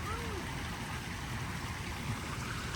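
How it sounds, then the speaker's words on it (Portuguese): Water falls and runs steadily at a Disney hotel's gold-panning stream, a continuous close splashing rush that fills the whole clip, with faint voices mixed in. "Olha a água caindo."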